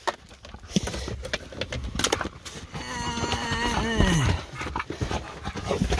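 An American Bully dog pants in quick, breathy bursts close by, mixed with shuffling movement and a few brief yelps or whines.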